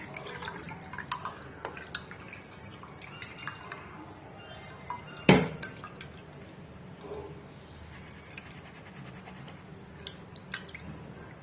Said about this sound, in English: Make sure you sieve, put it in the sifter.